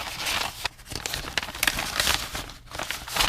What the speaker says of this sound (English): I put this all in the envelope.